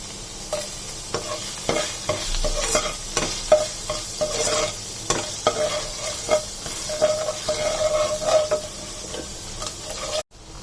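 Dry chili sizzles in hot oil in a pan with ginger and garlic, a steady crackling fry broken by scraping stir strokes and small pops, close and continuous with no voices.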